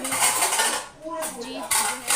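Washed steel dishes and utensils being stacked away in a home kitchen after packing a tiffin lunch, with repeated close metallic clatters and clinks that pause briefly midway.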